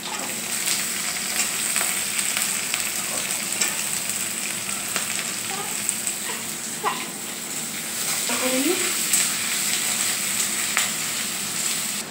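Chili and black cumin crackle in a pan of hot oil as onions go in, a loud continuous fry with bright hiss and occasional scraping stirs, plus faint background voices.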